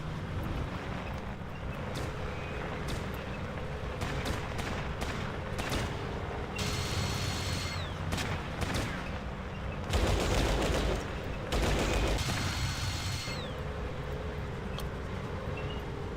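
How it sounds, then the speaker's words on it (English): Gunfire from the turn-based video game Fallout Tactics crackles in dense, continuous bursts for the whole stretch, with heavier volleys swelling near the middle over a steady backdrop of combat noise. "Oh, this guy is firing."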